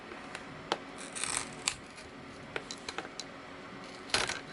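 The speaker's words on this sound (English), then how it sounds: "in a sweeping motion, we're gonna cut basically the glue" Blade cutting through adhesive around the screen bezel of a Dell Latitude 5490 laptop, a scatter of faint close scraping and clicking ticks spread irregularly, with a brief louder rasp near the end.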